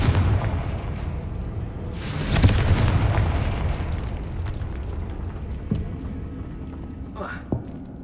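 In Hogwarts Legacy, a Confringo spell bursts into a loud, booming explosion about two seconds in, followed by a lingering rumble and a few smaller pops and magical whooshes later on.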